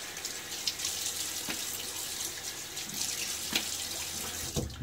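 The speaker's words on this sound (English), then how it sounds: "I'm going to splash a little water on my face" Cold hard water runs from a bathroom tap into a sink while a man splashes it onto his face before shaving, a steady nearby stream broken by a few soft splashes.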